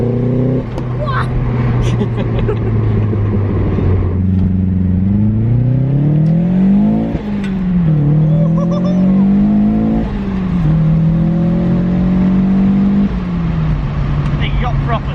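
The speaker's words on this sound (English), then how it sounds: "You got proper turbo noise." A Mazda MX5 with a Motorsport exhaust revs loudly and close, its engine note rising and falling through several climbs with turbo whoosh, while people talk over it.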